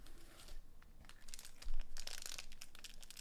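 One Piece OP-06 Wings of the Captain booster packs being torn open, close crinkling foil and sharp ripping bursts in quick uneven succession, building louder toward the end.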